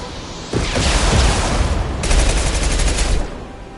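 Pistol fire in the video game Mass Effect 2: loud, close bursts of rapid shots in two clustered volleys with a brief lull between them, then an abrupt stop near the end.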